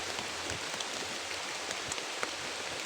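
Heavy rain falling steadily outdoors, a dense continuous hiss of drops with scattered sharper patters on surfaces, fairly quiet and even throughout, no speech.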